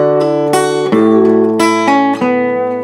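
Acoustic guitar plays the riff from a song, a few plucked notes and ringing chord changes, close and clear, alone with no talking.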